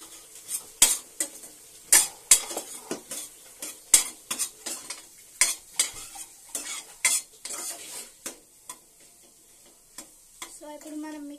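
Fried rice with chicken masala being stirred and mixed in a pan, with repeated scraping clicks of a utensil against metal over a low sizzle, close and fairly loud with no talking.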